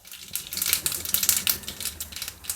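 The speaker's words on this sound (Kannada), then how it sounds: "ಈಗ ಒಂದು ಒಗ್ಗರಣೆ ಹಾಕೋಣ ಈ ಹಿಟ್ಟಲ್ಲಿ." Mustard seeds splutter and pop in about four small spoons of hot oil for a tempering, a quick run of sharp, irregular crackles close by, dense and fairly faint, with no voices.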